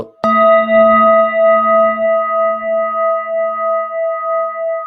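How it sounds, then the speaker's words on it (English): A metal meditation singing bowl is struck once, ringing with a bright, pure tone that slowly fades while gently pulsing and wavering over several seconds. "This is a gong. I think it's called like some kind of meditation bowl."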